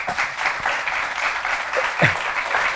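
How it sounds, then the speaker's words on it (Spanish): Applause from a small group in an informal interview setting, a scattered, moderately loud patter of claps with a few sharper individual hits, steady for nearly three seconds. "pido un aplauso. Aplausos."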